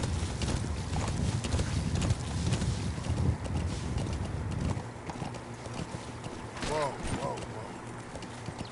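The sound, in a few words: horse hooves clip-clopping in Metal Gear Solid 5 video game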